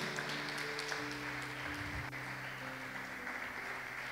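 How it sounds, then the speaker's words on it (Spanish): Church congregation applauding during a Spanish-language service, a steady, fairly faint, dense patter of clapping over a low, humming room tone, with no voices. "dale un aplauso al Señor"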